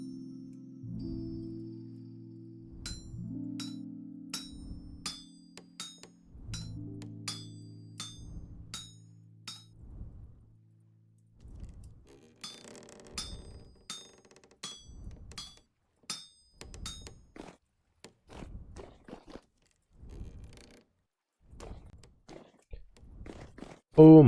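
Rhythmic metallic hammer strikes on an anvil while forging a knife in the survival game Vintage Story, a steady series of sharp clinks with ringing overtones, fairly close and moderately loud, with low voice-like tones at the start.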